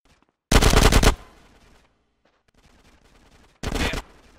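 Machine gun suppressing fire rattles in GTA San Andreas: two loud rapid-fire bursts, the first about half a second long and the second shorter, separated by quieter background game noise.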